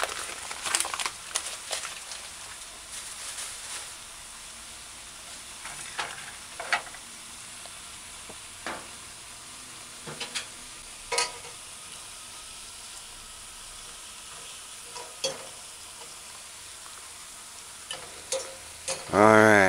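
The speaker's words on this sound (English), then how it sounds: "Fry your mashed green plantains." Mashed green plantain chips fry in a pan with a low continuous sizzle, broken by scattered sharp crackles and spatula scrapes; close and mostly alone, with a brief louder burst at the end.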